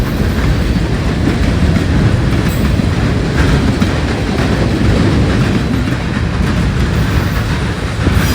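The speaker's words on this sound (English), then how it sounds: "Southbound intermodal train 28N would make its way through on the Sandusky District at the same time" Southbound intermodal freight train 28N rolls past on the Sandusky District near Marion, led by an SD70ACE locomotive, a loud continuous rumble of wheels and railcars with steady clickety-clack for several seconds.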